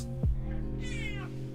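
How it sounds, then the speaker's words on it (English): A house cat gives a single close meow that rises and then falls away, heard over a steady low background hum with no talking. "Hi, Kitty"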